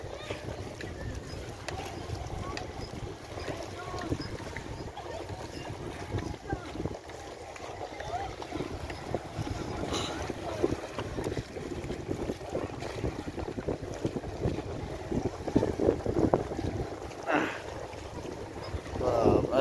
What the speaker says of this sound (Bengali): নৌকা আবার এদিক ওদিক ঘুরে যাচ্ছে, কত সুন্দর লাগছে।